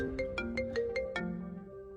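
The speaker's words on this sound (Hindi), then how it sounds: "जरा देखो किसका फोन है।" A phone ringtone rings in a domestic setting, six bright repeated electronic chirps in a steady rhythm followed by a sustained melodic tone, loud and close with no voice over it.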